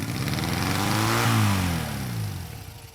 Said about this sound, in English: Instant and uncontrollable high revving.